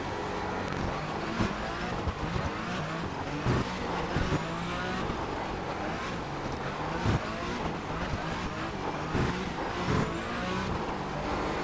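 A Porsche GT4 race car roars continuously as it accelerates and shifts through gears around the Lime Rock circuit in an iRacing simulation, loud and steady with brief rising revs and no talking.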